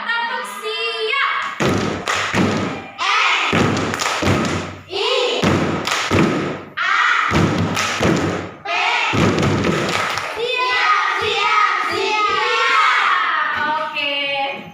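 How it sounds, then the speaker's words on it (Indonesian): Class of young schoolchildren performing a rhythmic group clap routine, loud bursts of clapping and chanting in repeated patterned phrases, close and energetic, with children's voices throughout. "coba tepuk siap"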